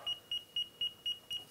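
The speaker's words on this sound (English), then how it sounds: "Stop beeping." A Bluetooth meat thermometer beeps high six times in a steady rhythm, short evenly spaced tones close by against a quiet background.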